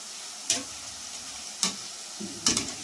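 Boondi frying crisp in hot oil for sweet-shop style boondi laddu: a constant soft sizzling hiss broken by three sharp metallic clinks, close by and fairly quiet.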